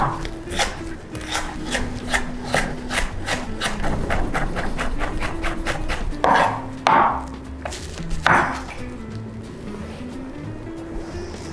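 Vegetables are chopped on a wooden board in a kitchen, a fast, steady run of close knife strikes that slows into a few heavier, scraping cuts near the end.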